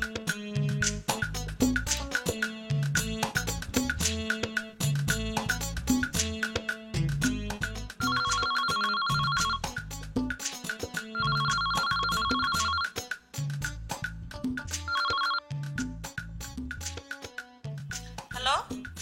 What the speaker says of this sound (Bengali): প্রথমবার ফোন বাজলো, ধরলো না